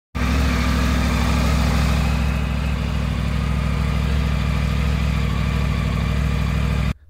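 A Triumph Tiger 900 motorcycle on its stock exhaust runs steadily at a low, even idle, a continuous close engine hum that holds level throughout before cutting off at the end.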